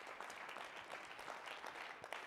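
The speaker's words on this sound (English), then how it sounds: "Give her a round of applause." A small audience applauds a participant who answered a quiz question correctly at a leadership talk, with faint, steady clapping that sounds distant and stays low in level throughout.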